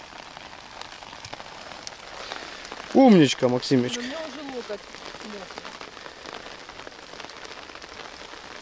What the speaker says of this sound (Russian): Сейчас усилился дождик.